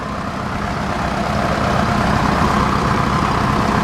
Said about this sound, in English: That's a good running tractor.